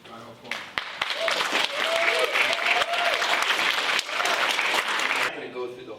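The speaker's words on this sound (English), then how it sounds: "Can we have a round of applause?" Sustained applause from an audience at a city board of managers meeting, loud and dense for several seconds before tapering off at the end, with some voices mixed in under the clapping.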